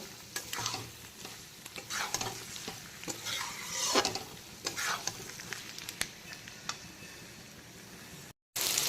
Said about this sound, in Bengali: বরবটিগুলোকে এখন পেঁয়াজ কুচির সঙ্গে 3 থেকে 4 মিনিট সময় নিয়ে আবারও একটু এইভাবে কষিয়ে নেব